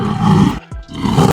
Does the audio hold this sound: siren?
no